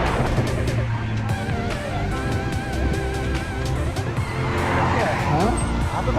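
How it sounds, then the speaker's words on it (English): A motorbike rides on an open road on a tour outside Dhaka toward Bhairab Bridge. Continuous loud engine and wind-road roar runs throughout, with voices faintly mixed underneath. "this is my first motorbike riding tours outside of Dhaka"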